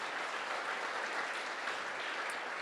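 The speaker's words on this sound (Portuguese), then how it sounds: "Pode aplaudir o Senhor por isso." A church congregation applauding during a family worship service: steady, even clapping from many hands throughout, somewhat distant and moderately faint.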